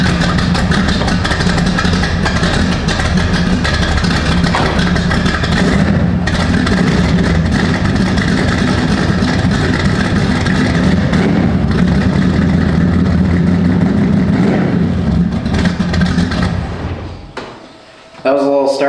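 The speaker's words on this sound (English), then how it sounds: "That was a little startup video so you could hear what this sounds like before." Chevrolet Camaro Z28 with a 388 V8 starting and running through its old exhaust, a loud steady rumble that fills most of the stretch before cutting off near the end.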